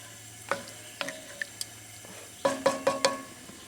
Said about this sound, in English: this is just barely boiling